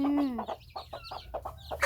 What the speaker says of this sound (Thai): มีไก่พ่้อมตัวหนึ่ง โอ้ นี่ตัวน้อยก็มี ตัวน้อยก็มีกำลังกิน